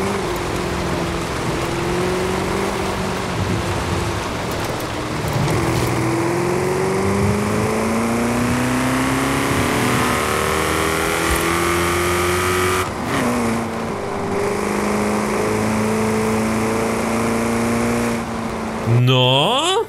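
A car engine in Forza Horizon 5, a Vauxhall Calibra without tuning, revs and drones steadily, pitch climbing and falling with acceleration, loud and close, with a few shifts in tone.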